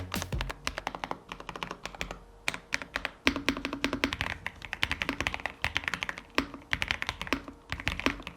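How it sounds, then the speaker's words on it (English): Someone types quickly on a factory pre-lubed KREO Swarm mechanical keyboard with Huano yellow linear switches, producing dense, close, soft-thocking keystrokes in a steady stream. "Typing experience is really nice, the keys feel very premium and soft"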